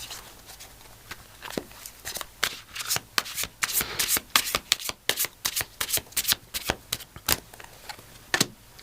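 An oracle card deck being shuffled close up, a rapid run of crisp riffling slaps and soft sliding rubs in irregular bursts, with no talking over it.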